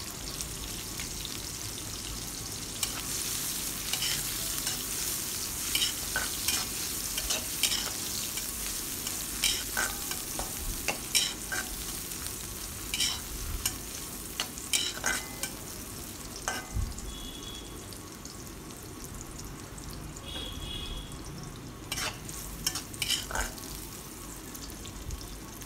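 Sliced onions fry in hot oil in a home kitchen pan, giving a steady close sizzle broken by frequent clicks and scrapes of stirring throughout.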